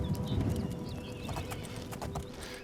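Hooves of a female horse clip-clop in a quick steady rhythm in a video game, close and moderately loud, with a brief whinny-like tone mixed in.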